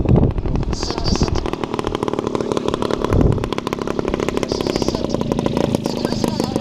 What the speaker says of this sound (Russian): Валерик, выключил мотор.